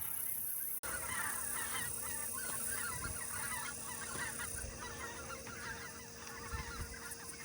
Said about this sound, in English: I'm pausing because I hear geese.